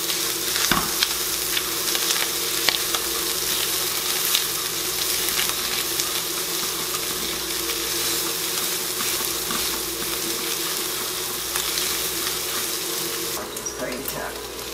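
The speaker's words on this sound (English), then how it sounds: "Now, I like to mix the spices into my meat while it's cooking." Ground meat with mixed-in spices browns in a pan, giving a continuous loud sizzle with occasional stirring scrapes, and a running-water-like hiss toward the end.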